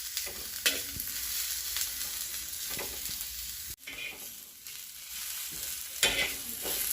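Onion fries slowly over low heat and is stirred now and then, a steady close sizzle with occasional scrapes and clicks of a spoon against the pan, no talking.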